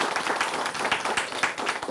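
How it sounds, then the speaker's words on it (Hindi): Audience applause at a public event on India's space mission, a dense wash of many hands clapping, fairly steady and moderately loud for a short burst with no voices. "जोरदार तालियां।"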